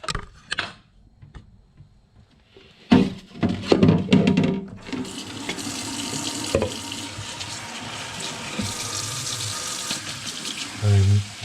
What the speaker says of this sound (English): I'm just rinsing it with water that's on the cool side of tepid, and I'm agitating them a little occasionally